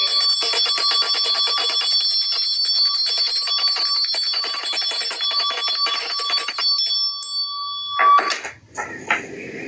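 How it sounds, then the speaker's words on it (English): A bright metallic antique bell rings in a rapid, sustained trill for several seconds, then stops abruptly, followed by a few clunks and a faint rustle. "That's one of them old antique bells right there."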